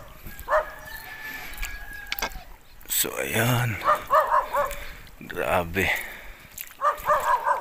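A dog barks in short repeated bursts nearby on a beach, with someone talking over it and birds calling in the background.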